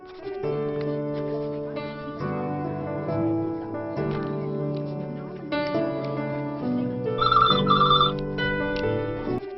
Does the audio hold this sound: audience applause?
no